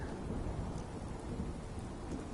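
Steady rain with low thunder rumbling inside a video game, a dense, continuous wash of rainfall at a constant level with no breaks.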